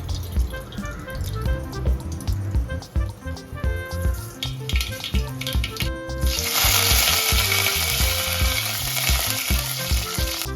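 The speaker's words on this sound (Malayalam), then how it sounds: "ചൂടായ എണ്ണയിലേക്ക് കുറച്ച് കടുക് പൊട്ടിച്ച് അതിലേക്ക് കുറച്ച് കറിവേപ്പില കൂടെ ചേർത്ത് കൊടുക്കാം" Hot oil sizzles steadily, then jumps into a loud, bright crackling hiss as mustard seeds pop and curry leaves go in, all over rhythmic background music.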